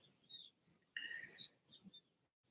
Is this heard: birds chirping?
yes